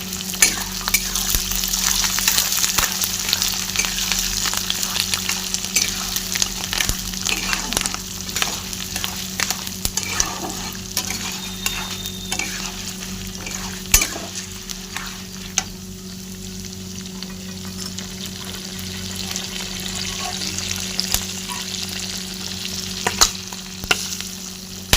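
Curry leaves and green chilies fry in hot oil with a constant crackling sizzle and frequent sharp pops, close up and without voices, while occasional stirring scrapes come through the spatter.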